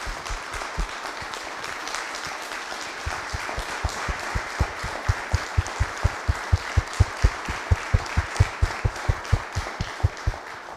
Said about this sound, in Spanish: le demos un fuerte aplauso